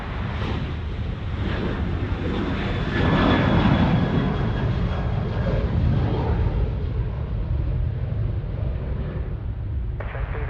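A Qantas Airbus A330-200 arriving from Bengaluru lands on runway 34 right at Sydney Airport, a loud, sustained jet engine roar with wind noise that peaks midway then gradually recedes.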